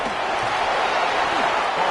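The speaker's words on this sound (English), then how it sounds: "You can already start to hear this crowd" A football stadium crowd roars in a dense, steady wash of cheering, loud and unbroken, with faint voices just audible beneath it.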